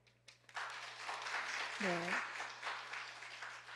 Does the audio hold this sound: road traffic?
no